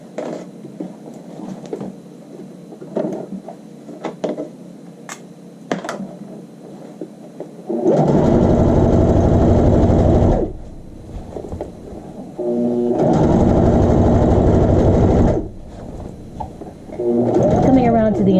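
Hemming child's shorts, a sewing machine runs in three loud close bursts of whirring stitches, the last ending in back stitching, after a stretch of quieter handling sounds and soft talk.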